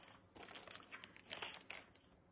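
A plastic bag crinkles and crackles as it is opened during a stitching and sewing update, several short crisp bursts of rustling, close and fairly quiet, with no talk.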